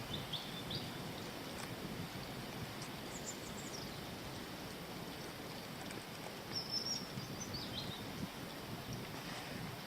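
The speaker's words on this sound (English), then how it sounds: "see if it picks up these bird song." Faint bird chirps sound intermittently over a steady wash of water and wind, distant and soft, with no talking.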